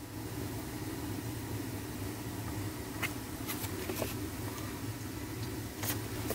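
A Burnham gas boiler runs steadily after servicing, giving a continuous low, rumbling roar with a faint hum and a few sharp ticks and clicks scattered over it, close by and with no voices.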